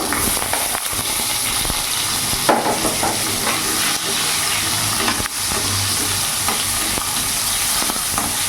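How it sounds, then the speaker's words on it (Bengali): Long-cut potatoes frying in hot oil with black cumin seeds, a loud continuous sizzle and hiss with occasional scraping as the pieces are stirred in the pan. "কেটে রাখা লম্বা লম্বা আলু আমি দিয়ে দেবো।"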